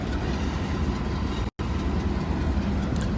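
A moving train rolls past in downtown Nashville, a loud, steady rumble of wheels on rails with a clickety-clack texture that briefly cuts out for a moment midway.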